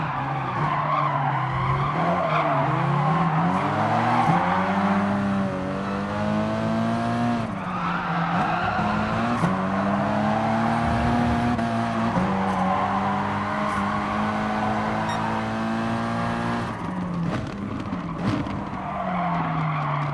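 An old Hyundai rallycross race car laps the Big Willow track, its engine revving and shifting continuously at close range with tires skidding, loud and steady throughout with no voices.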